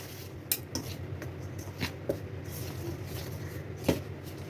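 Melted jaggery is mixed in a pot for kinnathappam, with a spoon knocking and scraping against the vessel in scattered, uneven clunks, close and moderately quiet, with no voices.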